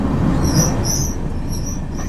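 The inaugural run of the 03116 Humsafar Express crosses the Nasipur rail bridge with a loud, steady rumble of wheels on track and faint high squealing tones throughout, no voices.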